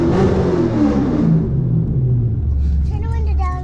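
Dodge Charger R/T engine revving loud and close, with a low rumbling exhaust running under people talking throughout.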